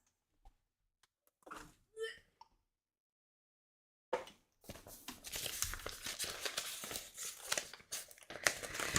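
Papers are shuffled and crinkled close by during a live podcast stream. A few sparse rustles come first, then a short silence, then a steady run of dense crinkling and flicking that continues to the end.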